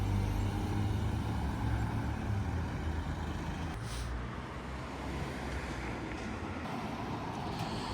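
Heavy diesel rumble of a tour bus in Edinburgh, steady and close throughout, with a dense low engine drone and road noise that eases slightly midway before building again.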